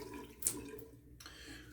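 Faint running water from a tap, a soft steady trickle with one brief splash, quiet and unaccompanied.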